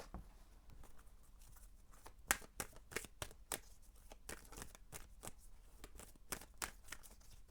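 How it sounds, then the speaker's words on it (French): Tarot cards are shuffled in a quiet room, a quick run of soft riffling flicks and slaps, some sharper than others, with nobody talking. "je prépare le tirage et on découvre les cartes ensemble"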